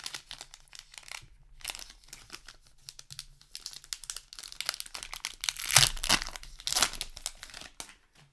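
Rise TCG Alpha booster pack foil wrapper crinkled and torn open up close, a run of sharp crackling and tearing bursts with short pauses, loudest near the end.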